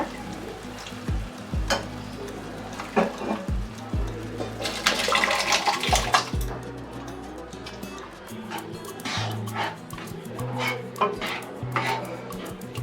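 Water poured into cooked dal for bele sambar, a gushing splash amid clanks of a ladle and pot, sizzling and stirring scrapes in a home kitchen, with several sharp metallic knocks.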